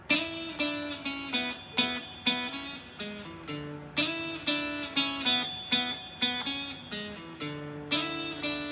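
An electric guitar plays a riff, picked double stops and sliding notes in a steady, driving rhythm, clear and moderately loud with no voice over it.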